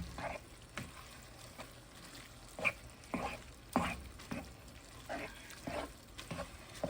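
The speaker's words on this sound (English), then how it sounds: "Now I want to let this cook. Go ahead and stir it up one more again." Burrito filling frying in a pan, with a low steady sizzle under repeated scraping spoon strokes at an uneven rhythm, close and fairly quiet, no talking.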